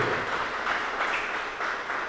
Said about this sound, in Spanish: Así que date a ti un aplauso.